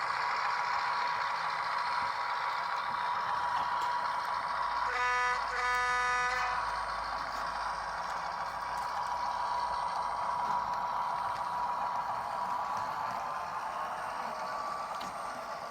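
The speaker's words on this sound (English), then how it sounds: "the sound decoder starts ramping up like it would in a DCC loco" A DC-run model train locomotive with a DCC sound decoder produces a steady, droning diesel engine hum that ramps up. A short rhythmic buzzing horn-like tone sounds midway, and no one speaks.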